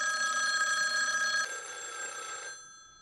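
A telephone bell rings in a bright, sustained trill that drops in level partway through and then cuts off, with no voices over it.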